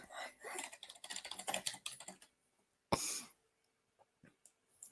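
Rapid clattering keystrokes on a computer keyboard fill the first two seconds, then a sharp cough-like burst and a few faint taps follow in near silence, recorded close.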